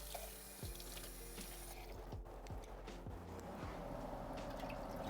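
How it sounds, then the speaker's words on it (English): Tap water runs into a container as it is rinsed out in a kitchen during seafood chowder preparation, a steady faint flow with a few knocks and drips, no talk. "So now I'm just gonna rinse that out with water again."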